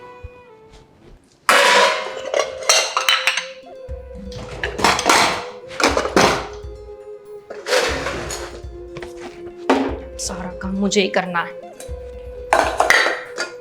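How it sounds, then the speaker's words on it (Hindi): Metal pots, pans and utensils slammed down in a home kitchen, producing loud, repeated clattering bangs in irregular bursts, with someone speaking between and over them. "ये बर्तन क्यों पटक रही हो?"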